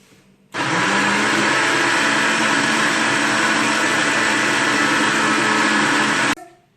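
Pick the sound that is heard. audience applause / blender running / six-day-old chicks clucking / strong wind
blender running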